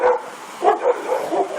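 A dog barks a few times in quick succession, fairly close, with short sharp yips between barks.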